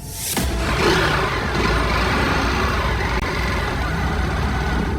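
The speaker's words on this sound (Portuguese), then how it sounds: "veja agora que ele está estacionando a moto" A motorcycle is parked on a city street near Faria Lima, heard as a loud, steady engine rumble mixed with surrounding road traffic noise, continuous throughout after a brief quieter opening.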